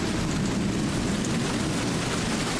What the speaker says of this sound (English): Outside the window, I can see rain pouring heavily onto a well-tended flower garden.